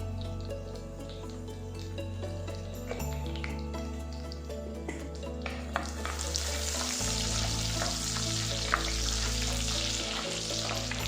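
Cumin seeds with bay leaf, cinnamon, cloves and cardamom frying in melted butter in a home kitchen, a steady close sizzle and crackle that grows brighter partway through, under a low continuous hum.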